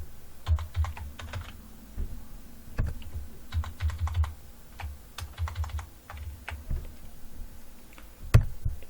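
Someone types random text on a computer keyboard, producing irregular bursts of close, crisp key clicks with brief pauses between flurries, no voices.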